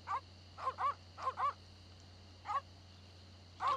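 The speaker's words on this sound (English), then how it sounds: "Deadly piranha poodles." Piranha poodles in The Secret of Monkey Island yap in short, sharp barks, mostly in quick pairs, separated by gaps over a faint steady electronic hum.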